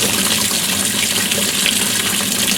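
A GE washing machine set to a small cold load fills with water, a loud, steady gushing rush that runs without a break, close up and with no voices.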